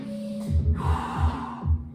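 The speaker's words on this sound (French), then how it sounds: "tu inspires" A deep inhale during a stretching session, a close, breathy gasp drawn in sharply and then held, over a low pulsing music bed with no talk.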